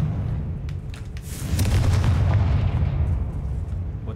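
The Confringo blast spell in Hogwarts Legacy goes off as a loud, deep explosive boom with a rumbling tail, swelling midway through and staying heavy.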